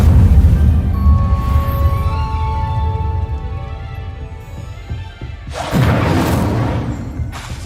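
Incendio fire spell cast in the video game Hogwarts Legacy, a loud booming burst that ends in a crashing thud, then a second blast follows over the game's music bed.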